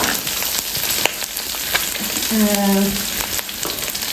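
Onion, cabbage, carrot and capsicum frying in a pan beside scrambled egg, with a steady close sizzle and stirring scrapes; a brief pitched tone rises in the middle.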